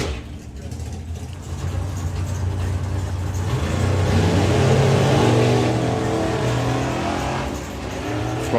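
Super gas drag racing car accelerating down the strip at a drag racing festival, a loud engine roar rising and swelling over several seconds, then easing slightly, heard from a distance with a commentator talking over it.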